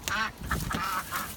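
Backyard ducks quacking on a cold, snowy day, a close run of about four loud, nasal quacks in quick succession, no talking.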